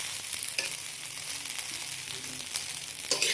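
Rice frying into sinangag in oil rendered from dried tamban fish, a dense, continuous close sizzle with light stirring scrapes and small crackles, no talking.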